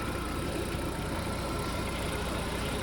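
A car engine idles while warming up, a steady dense rumble with no change in pace, close and constant throughout.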